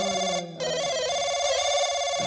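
Telephone bell ringing during a rural Nautanki folk theatre performance in Fatehpur, a steady harmonic electronic ring that is loud and close, with a brief break partway through.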